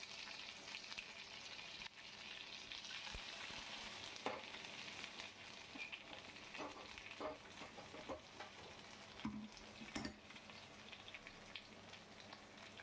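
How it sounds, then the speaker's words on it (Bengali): Small mourola fish fry in oil in a pan and are flipped over, making a continuous soft sizzle broken by a few sharp clinks and stirring clatters, with no talking. "মৌরলা মাছটা আমার ভাজা হয়ে গেছে এক পিঠ। এবার ওপর পিঠ উল্টে দিচ্ছি।"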